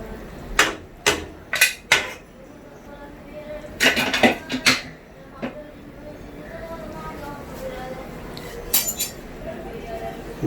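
A pressure cooker holding mutton karahi with tomatoes is opened once its pressure has been released: sharp metallic clanks and clinks from the lid and pot come in small bursts over low room noise.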